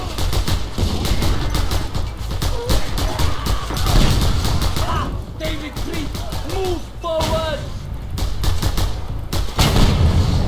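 Rapid gunfire and explosions in the open-world action game Just Cause 2, with a dense, loud barrage of shots and booms running throughout and brief voices heard over it.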